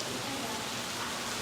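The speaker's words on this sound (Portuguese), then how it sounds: "Ô senhor Moacir, dá para pedir para parar a chuva?" Heavy rain pours down as a dense, continuous hiss, steady and loud throughout the short stretch, with no clear voices over it.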